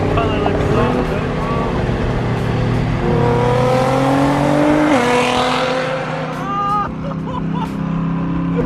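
A loud wrapped Nissan GT-R drives past at a car meet. Its engine drones, shifts pitch as it passes and accelerates, then fades while another rev rises later, all fairly close.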